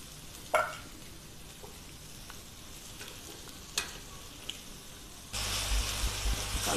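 Banana flower is stirred into frying lentils, onion, dried chilli and garlic: quiet scraping stirs with a few sharp knocks over a faint sizzle that swells louder near the end.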